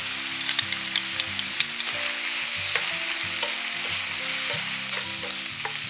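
Minced meat stir-fries in a pan with oyster sauce and doubanjiang, a steady close sizzle with the scrape and tap of stirring throughout, no voices.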